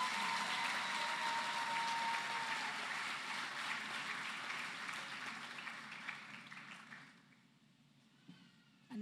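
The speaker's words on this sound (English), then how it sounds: "I think we can muster up another round of applause." A graduation ceremony crowd applauds, broad clapping that stays steady for several seconds, then thins and fades away to near quiet, with a few last isolated claps at the end.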